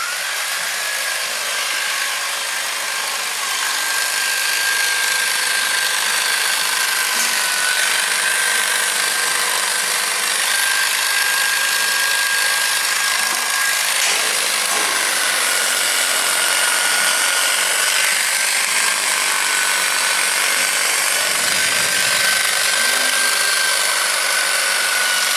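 Electric power shears buzz continuously while removing coarse edge fiber from a fleece during shearing, a steady high whine that holds for the whole stretch with only slight changes in pitch and no talking.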